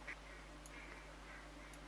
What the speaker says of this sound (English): I can hear some more ducks. And there you are, over the top of me I've got some more ducks